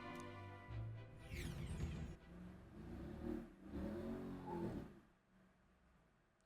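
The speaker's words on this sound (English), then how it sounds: "It's a loud car." A car engine in the video game Metaphor: ReFantazio revs and roars loudly, rising and falling in pitch over a few seconds before settling into a quieter rumble.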